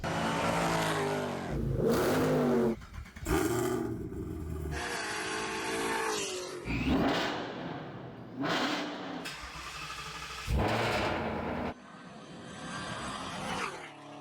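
A stock BMW M240i accelerates hard through the gears in hot weather, loud close engine roar rising in pitch in repeated pulls, cut by short gaps at each upshift, with no one talking.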